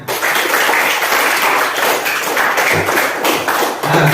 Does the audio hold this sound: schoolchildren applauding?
yes